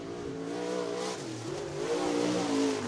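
A late model race car runs a qualifying lap at Cottage Grove Speedway, its engine droning steadily with rising and falling pitch as it works around the track.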